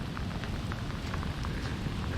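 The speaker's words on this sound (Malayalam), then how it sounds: "നല്ല മഴ." Heavy rain pours steadily at a riverside fishing spot, a dense, continuous hiss with scattered drop patters, evenly loud throughout with no voices.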